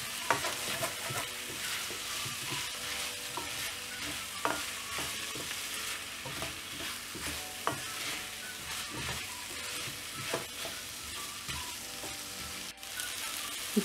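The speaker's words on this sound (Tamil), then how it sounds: "முருங்கைக்காய் ஆட் பண்ண உடனே நல்லா ஒரு 2 மினிட்க்கு இது நல்லா ஃப்ரை ஆகணும்." Drumstick pieces fry in hot oil in a pan for a prawn and quail egg curry, a steady close sizzle with frequent spoon scrapes and stirring knocks throughout, no voices.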